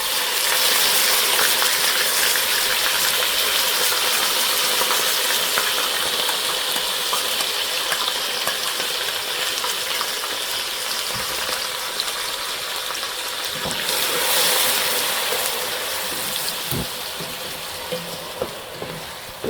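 Onions frying in a pan for chicken korma, a loud, continuous sizzle and crackle close up, with a few stirring knocks and clinks near the end.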